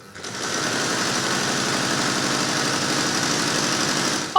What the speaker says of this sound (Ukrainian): Ось у цьому кабінеті чути звук швейної машинки.